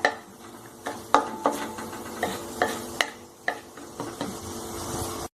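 Turmeric roots frying in oil for a lime-chili pickle, a steady close sizzle punctuated by repeated sharp metallic clinks and taps of a utensil against the pan at an uneven rhythm.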